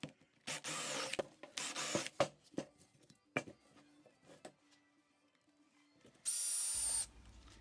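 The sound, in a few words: 1 3/8 Forstner bit drilling a flat spot on a wooden bowl blank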